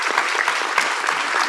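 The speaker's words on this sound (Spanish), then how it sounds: "un fuerte aplauso para ese gran equipo" A closing plenary session audience at Universidad Externado gives a brief, loud burst of dense applause for the organizing team, with many hands clapping close and steady.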